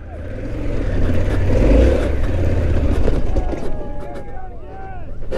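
A Harley-Davidson Pan America adventure motorcycle ploughs through soft sand, its engine droning loud and steady with wind buffeting the microphone and a revving swell near the middle.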